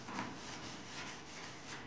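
A brush scrubs an old bucket during cleaning, a soft continuous rasping rub that holds fairly evenly for a couple of seconds, faint and close with no voices.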